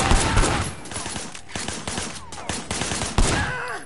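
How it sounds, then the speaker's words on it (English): Rapid gunfire bursts crackle in the game Sleeping Dogs, a close, dense fusillade of overlapping shots with brief gaps, steady and fairly loud throughout, no talk. "Shooting at the guys over there."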